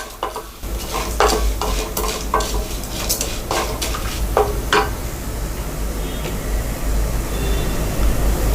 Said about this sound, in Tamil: சோம்பு, இது எல்லாத்தையுமே நம்ம வந்து போட்டு வறுத்துக்கலாம்.